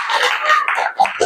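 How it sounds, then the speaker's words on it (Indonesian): A classroom audience at a teaching performance assessment gives a short burst of applause, bright dense clapping heard close and fairly loud, with a voice mixed in near the end. "Beri tepuk tangan buat kelompok Al-Muhyi."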